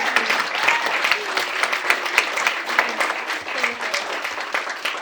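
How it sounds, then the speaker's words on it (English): Audience applause at a live podcast recording, a dense, steady clapping from a room of listeners that holds fairly loud for the whole stretch with no talk over it. "Can we just like clap for it?"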